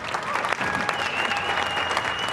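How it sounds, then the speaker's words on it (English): A crowd applauds steadily, a dense, loud wash of clapping that holds its level throughout. "Everyone give a round of applause to Jaden Smith."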